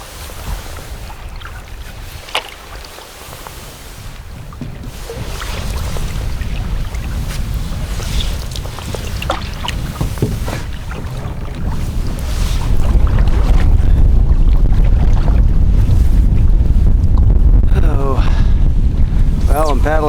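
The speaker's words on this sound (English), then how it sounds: "paddling downriver, but got about a 15-mile-an-hour wind in my face." Canoe paddled downriver in Alaska against a strong headwind of about 15 mph, with steady roaring wind buffeting the microphone, rushing water and occasional paddle strokes, growing louder in the second half with brief speech.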